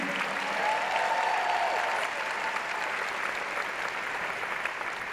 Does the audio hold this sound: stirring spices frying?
no